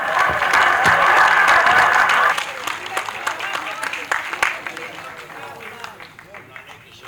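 An audience at an annual storytelling festival applauds a young child's story, dense clapping for about two seconds that thins into scattered claps and murmuring crowd noise.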